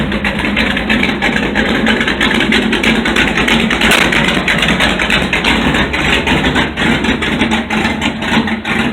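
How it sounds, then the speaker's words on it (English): A straight-piped 1968 Plymouth Satellite with a 5.9 Magnum V8 and Hughes cam idles after a cold start, a loud, close, continuous low rumble with a steady lopey pulse throughout. "That was a great cold start. I didn't even pump the carb."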